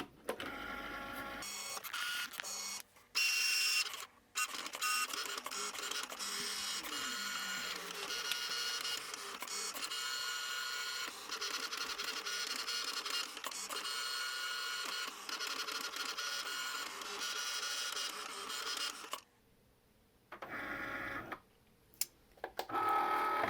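An electronic cutting machine slices paper with a steady, close mechanical whir and faint ticking from its moving carriage, running continuously with a few short pauses and stopping near the end; no one speaks.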